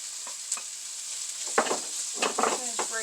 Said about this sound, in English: I'm going to go ahead and add in my onions.